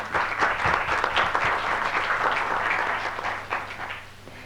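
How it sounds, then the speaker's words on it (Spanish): Audience applause greeting a government panelist at a Latin American internet governance forum session, a steady dense wash of many hands clapping from the room, moderately loud and tapering slightly toward the end. "También lo recibimos con un aplauso"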